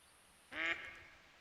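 A level 3 golden-eyed duck in a duck-hunting video game lets out one short, clear nasal quack over near silence.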